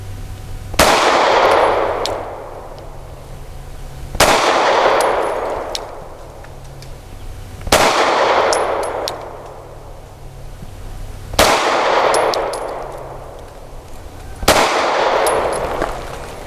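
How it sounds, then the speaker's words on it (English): Five sharp Sig P320 pistol shots fired with a Wilson Combat compact grip module at an outdoor range, each loud crack followed by a decaying echo, spaced about three to four seconds apart. "And my 5 shots using the Wilson Combat Compact"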